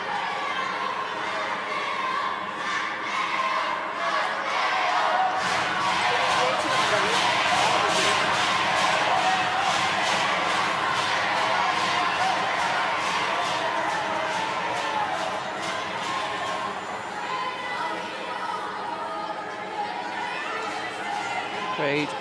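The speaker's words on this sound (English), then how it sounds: "Crowd willing their team to get this over the finish line." Wheelchair curling crowd at a GB versus Italy match in Milano, a steady roar of cheering and chatter building through the final end, loud and continuous with rhythmic pulses of voices throughout.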